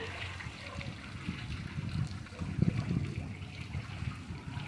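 Water from a park waterfall at Larz Anderson Park in Brookline splashes and trickles in a steady, close rush, with no talking over it.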